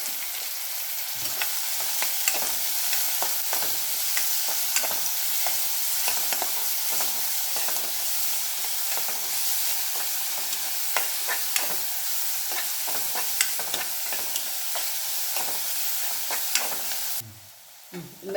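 Chopped onions sautéing in a pan for a tomato thokku, a steady broadband sizzle broken by frequent sharp scrapes and clicks of a spoon stirring, close and continuous with no voices, ending abruptly.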